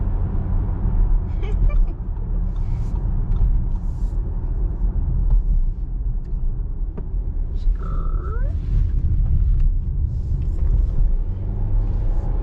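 A 2021 Audi Q5 with a two-liter engine drives along, its steady low road and engine rumble continuous throughout, with brief faint voices and a short tonal chirp partway through.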